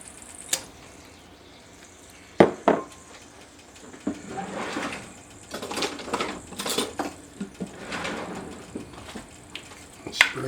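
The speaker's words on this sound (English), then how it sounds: "Okay, I'm going to dump in the onion." Chopped onion dumped into a hot cast iron pan, a sharp clatter followed by sizzling and scraping of the pieces being spread around, close and moderately loud.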